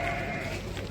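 Sheep bleating at a livestock market in Merke, a steady nasal bleat held through the whole short moment, close and fairly loud against a busy market background.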